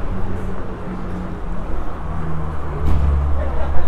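A classic Triumph TR3 rolls past at a vintage vehicle gathering, its low engine rumble swelling as it draws nearer amid outdoor background noise.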